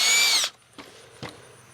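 A short burst of a power drill whining close up while boring a pocket hole in wood, cutting off abruptly, followed by a couple of faint knocks.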